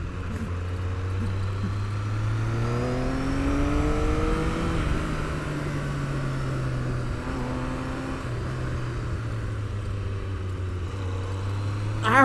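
A Triumph Daytona T595 motorcycle engine drones steadily while being ridden on a track, its pitch sweeping up and down through gear changes, loud and continuous with wind noise and no talking.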